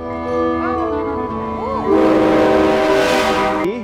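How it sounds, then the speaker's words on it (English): A train passes at Junction City and blows its horn: long, loud blasts with bending pitch sound close by, and a broad rumble of the rolling cars swells in the second half. "There's a train coming"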